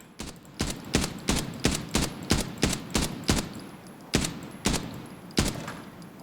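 A TX-15 DML rifle is fired in full auto in the shooter game Arena Breakout Infinite. Sharp, loud shots come in even bursts, closely spaced with brief pauses, and no one talks.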